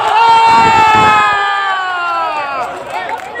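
Egyptian football fans cheer loudly in the street, a dense crowd roar with shouts and whoops sustained throughout and easing slightly toward the end.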